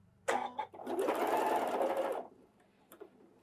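A Janome sewing machine with a walking foot stitches in one short, steady run of about two seconds, close and clear, then stops, followed by a couple of faint clicks.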